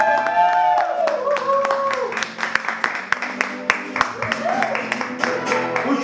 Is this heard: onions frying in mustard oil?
no